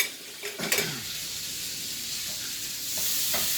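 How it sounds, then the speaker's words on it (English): About three tablespoons of butter sizzling in a hot pan for beef stroganoff, a loud steady hiss with a few utensil scrapes and clinks at the start. "put about 3 tablespoons of butter into the pan here"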